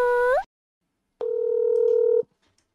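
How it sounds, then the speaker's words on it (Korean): Telephone tones sound while a call is placed: a short tone, a pause of about three quarters of a second, then a steady, fairly loud tone lasting about a second before it cuts off. No one speaks. "그러면은 흰토끼님 전화 통화 한번 해볼까요"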